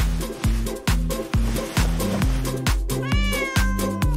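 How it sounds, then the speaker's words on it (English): A cat meows over and over in a steady, insistent rhythm, each call loud and close, with a faint higher chirp near the end and no talking. "Let's distract the cat."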